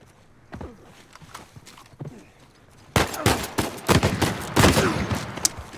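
Gunfire in the video game Uncharted 4: A Thief's End: a few faint sharp cracks at first, then a loud, dense burst of repeated shots that continues to the end.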